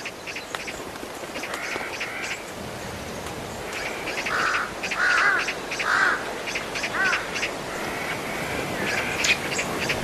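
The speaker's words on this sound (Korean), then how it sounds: "독수리들끼리도 경쟁은 치열합니다." Vultures squabble over an animal carcass in the Central Asian winter wilds, trading repeated harsh, nasal calls in irregular bursts over a steady outdoor hiss, with no voices.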